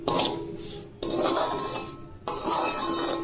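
Semolina is stirred in a pan with a spoon, making gritty scraping and rubbing strokes in three separate bursts, close and alone.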